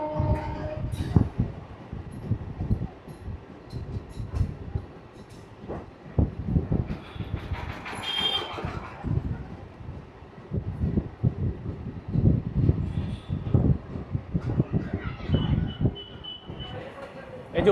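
A train from Krishnanagar to Amghata rumbles steadily along the tracks, passing under the NH12 flyover, with rattling carriages and wind noise, voices murmuring faintly beneath the continuous rolling sound.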